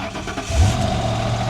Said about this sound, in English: Start it up just like a champ.